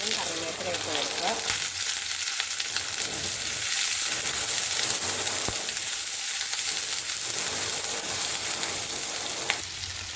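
Sliced onions, green chillies and curry leaves hiss and sizzle in hot oil after mustard seeds have popped, a steady close frying crackle with occasional sharp pops while a churakka thoran is prepared.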